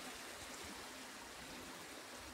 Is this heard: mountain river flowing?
yes